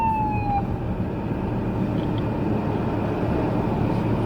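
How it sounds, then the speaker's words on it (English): A siren wail drops in pitch and quickly fades away into a steady rumble of passing traffic. "Oh, ambulance. Hope everybody's okay."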